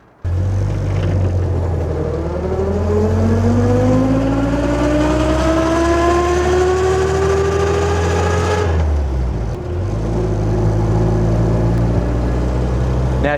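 A 1956 Land Rover Series 1 109 engine starts and runs steadily with a loud low rumble, its pitch climbing slowly as it revs, then dipping briefly before settling back into idle.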